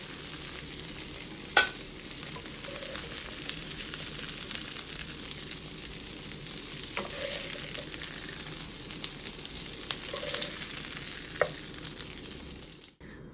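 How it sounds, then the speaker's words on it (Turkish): A steady, gentle sizzle of vegetable meatballs frying in a pan, with a few soft clinks and scrapes now and then. "Evet köftelerimiz yeterince kızardı."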